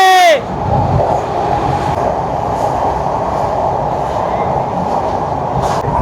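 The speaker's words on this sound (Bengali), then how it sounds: "এখন আমাদের ট্রেন পদ্মা সেতুর ওপর দিয়ে যাচ্ছে।" The Kolkata–Dhaka train crosses the Padma Bridge in a loud, continuous rumble of wheels and carriages, opening with a brief tonal squeal before the steady roar carries on unbroken.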